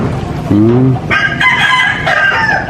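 A rooster crows loudly and close by, one long drawn-out call with a rising start and a sustained, strained ending.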